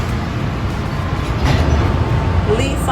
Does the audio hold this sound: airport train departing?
yes